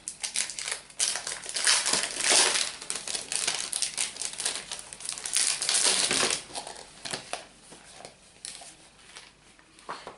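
A new paper planner's plastic wrapping is crinkled, crushed and torn open in a steady run of close, busy rustles with short pauses, and no one speaks over it.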